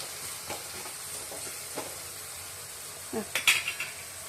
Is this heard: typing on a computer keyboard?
no